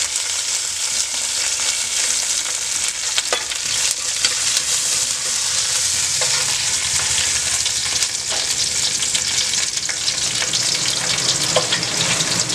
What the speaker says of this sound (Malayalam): നമുക്കിനി ഇതിലേക്ക് വറ്റൽമുളക് ചതച്ചത് ചേർത്ത് കൊടുക്കാം. വേപ്പില ചേർത്ത് കൊടുക്കാം.